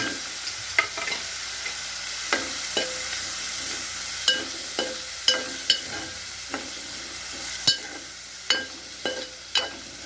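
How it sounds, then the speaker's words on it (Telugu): Onions fry in a pan for a prawn curry with a steady, close sizzle, punctuated by a spatula stirring and clicking against the pan at irregular intervals. "ఇలా ఫ్రై అయ్యాక ఆనియన్స్ వేసేసుకుందాం."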